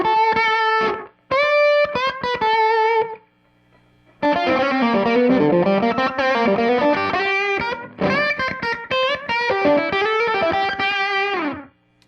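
An electric guitar through a Keeley BD2 Blues Driver pedal and Fender Blues Junior amp, on the lead pickup, plays gritty, overdriven phrases and sustained chords, with short pauses between bursts of distorted notes, loud and close.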